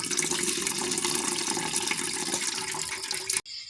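Hot water is poured off boiled bamboo shoots in a Lao-style home kitchen, a steady, full splashing stream that runs loudly and continuously before cutting off abruptly at the end.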